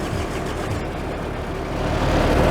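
A JCB 208s diesel engine that has sat for years cranks over on its starter, a steady low churning drone that holds throughout and builds slightly louder toward the end, with no talk.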